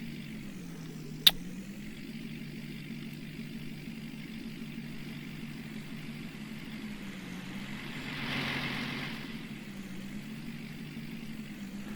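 A very long farm vehicle in Farming Simulator drives along, its engine a quiet, steady low drone that wavers slowly in pitch, with one sharp click early on and a brief soft swell later.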